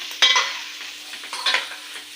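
Food frying in a pan, with two louder bursts of sizzle as it is stirred, the hiss fading between them; close and alone, with no voices.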